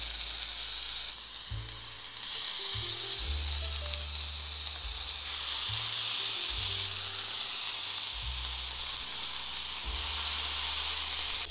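Eggplant slices sizzle on a hot grill pan over an induction hob at medium-high, a steady close hiss and crackle lasting the whole stretch, alone with no talking.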